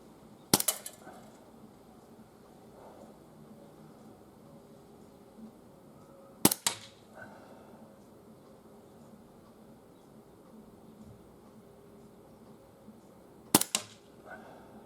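A Gletcher Luger P08 blowback BB pistol fires at targets 12.5 metres away, three sharp, close cracks spaced several seconds apart, each followed by a brief metallic clatter of the action, over quiet background.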